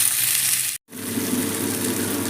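Fish shallow-fried in a pan with a little oil, a continuous close sizzle and crackle that cuts out for an instant and then resumes just as strong, with no talking.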